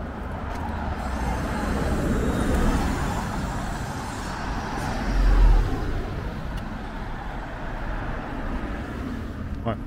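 Busy suburban road traffic in Downend, with cars and heavier vehicles passing in a continuous rumble and a louder vehicle going by midway.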